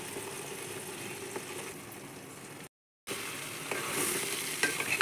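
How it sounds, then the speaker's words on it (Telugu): Washed and dried gongura leaves frying and being stirred in hot oil, a steady close crackling sizzle that cuts out briefly mid-clip, then returns with stirring scrapes and pops. "ఫ్రెష్గా కడిగి ఆరబెట్టుకున్న గోంగూరని ఈ నూనెలో వేసి వేయించుకోండి."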